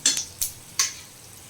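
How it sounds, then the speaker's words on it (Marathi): Onion and tomato tipped into hot tempered oil with mustard seeds and chilli, heard as three short stirring and sizzling bursts close by, fading into a quiet low sizzle. "आता ह्याच्यात कांदा टोमॅटो घालून देऊया।"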